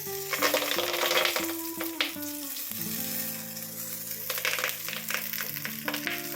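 Whole fish hisses and crackles as it is laid into hot coconut oil in a pan for Kerala-style meen pollichathu, a loud continuous sizzle with short bursts of spatter, no talking.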